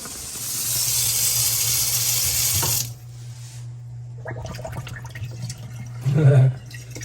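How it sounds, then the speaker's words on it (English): Water rushes steadily through a kitchen sink drain after a garbage disposal install, then cuts off, leaving faint clatter, low hum and a short burst of voices. "Water's draining."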